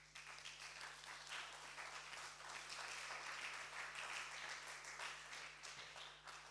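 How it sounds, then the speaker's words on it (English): Audience applause at a film screening Q&A, a steady wash of many hands clapping, moderately distant, sustained for several seconds before tapering off, with a low hum underneath. "round of applause for Emma"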